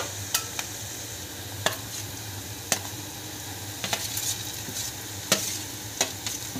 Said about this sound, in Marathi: शेंगदाणा, मिरची आणि लसूण घाई छान परतून घेतलं आपण मोठ्या गॅसवरच